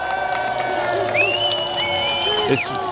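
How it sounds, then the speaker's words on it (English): A crowd of peaceful protesters claps and cheers at a street demonstration, the applause fairly distant and sustained beneath nearby voices and a brief whistle-like sound. "Everyone's clapping now"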